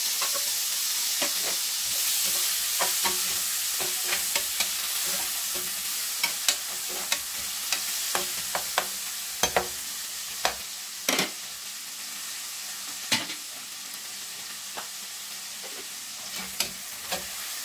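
Onion and tomato sautéing in a pan, a continuous sizzle broken by repeated sharp clicks and scrapes of stirring.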